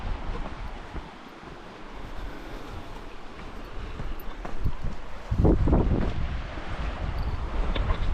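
A river rushes past a campsite on the Alaska Highway, a steady broadband wash of water that grows louder toward the end, with some wind buffeting the microphone.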